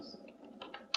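Quick keystrokes on a computer keyboard while entering text in CorelDraw: a short, faint burst of a few close clicks ending in a louder tap.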